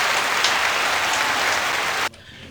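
Steady, dense audience clapping fills the space loud and even for about two seconds, then cuts off abruptly, during a community podcast recording.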